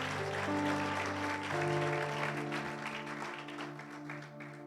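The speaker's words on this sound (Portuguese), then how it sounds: "Vamos aplaudir ao Rei dos Reis, ao Senhor dos Senhores" Church congregation applauding during a worship service, steady clapping under sustained organ or keyboard chords, moderately loud and fading slightly toward the end.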